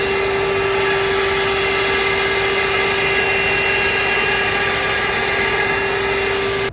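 A Vaclife cordless vacuum cleaner running with an attachment fitted, giving a loud, steady, close whine with a strong constant tone that holds unbroken throughout, with no talk.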